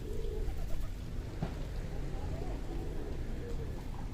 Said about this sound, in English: Lots of pigeons, which makes the kids happy.